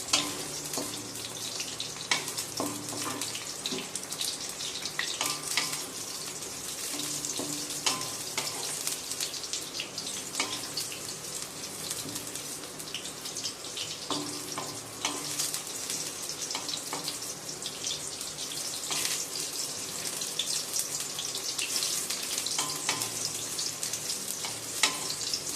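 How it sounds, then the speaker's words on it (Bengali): Brinjal pieces fry lightly in hot oil in a kadai, giving a steady, continuous sizzle with occasional stirring scrapes that runs unbroken throughout with no talk. "এবার আমি বেগুনগুলোকেও একটু হালকা করে ভেজে নেব।"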